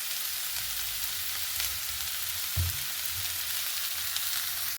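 Curry leaves and green chillies fry in a pan with a steady, fairly quiet hiss and one soft bump partway through, with no talking.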